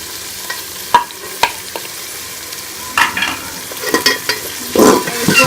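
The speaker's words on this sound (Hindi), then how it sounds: "अच्छी तरह से भून लेंगे। साथ ही ये मैं नमक और लाल मिर्च भी इसके अंदर डाल दूंगी।" Spices with salt and red chilli sizzling in a pan for chana pulao, stirred with a spoon: steady frying hiss under intermittent scraping clacks of the utensil against the pan, close up.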